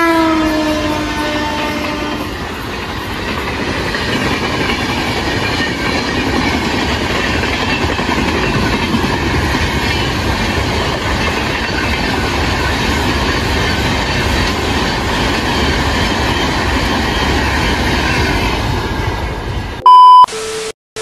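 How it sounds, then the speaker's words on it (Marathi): An LTT–Madgaon Holi special express pulls into a station with a loud, steady rolling rumble and clatter of wagons. A horn-like tone sounds near the start, and a sharp beep comes at the very end. "फायनली आपली एक्सप्रेस आलेली आहे लोकमान्य टर्मिनस मडगाव"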